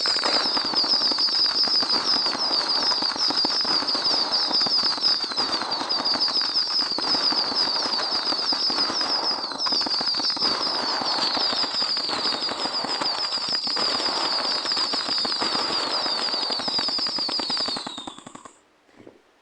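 Fireworks going off in the video game Firework Playground, a dense rapid crackling of bursts with a shrill whistling tone running through it, steady and loud before cutting off near the end.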